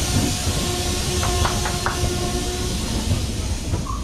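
A passenger train running on rails from Bilaspur Junction to Visakhapatnam Junction gives a steady loud rumble and hiss, with a few faint rhythmic clacks of wheels over rail joints.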